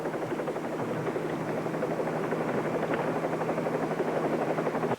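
A helicopter drones steadily overhead, its rotor beating in a fast, even pulse with a constant engine whine, loud and continuous throughout.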